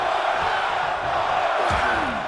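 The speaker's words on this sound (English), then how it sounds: "Crowd chanting one more time." A wrestling crowd at a pro wrestling pay-per-view event fills a large arena with a continuous loud roar of cheering and chanting. Faint scattered thumps come from the ring.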